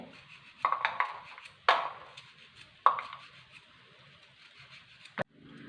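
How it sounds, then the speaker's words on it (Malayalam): Carrots being chopped into small pieces on a board, a few sharp knife strikes spaced irregularly, close and clear against a quiet background. "ക്യാരറ്റ് എടുത്തേ അത് ചെറുതായിട്ട് ഇങ്ങനെ അരിഞ്ഞ്"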